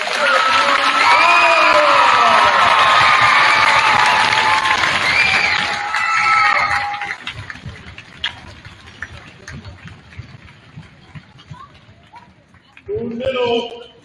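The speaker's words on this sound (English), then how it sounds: "let's give a huge round of applause for AmeriGroup" A school assembly crowd in a fitness room breaks into loud, sustained applause with cheers and whoops for about seven seconds. The noise then thins to scattered claps and murmurs, and a short burst of voices rises near the end.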